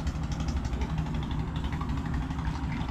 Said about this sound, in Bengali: এই যে ট্রলারটি গেল, ট্রলারটি বেশি পানির ভিতর বা খাল দিয়ে চলে গেল।